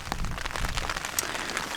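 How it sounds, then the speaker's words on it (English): Rain falls steadily on a tent at a wet mountain campsite, a dense even patter of drops close overhead with occasional louder individual hits and no voices. "especially listening to the rain. It is quite relaxing"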